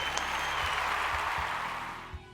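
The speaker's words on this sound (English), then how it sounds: "Let's give a round of applause for Naya." Applause from a school ceremony audience for a student being recognized, a steady crowd of clapping hands that fades slightly near the end, with a few low thumps underneath.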